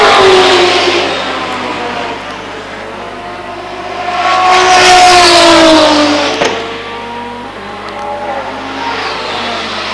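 A race car in an endurance series race sweeps through an infield hairpin, its engine note rising and falling with a loud pass mid-clip before fading, with other engine noise on the track continuing behind.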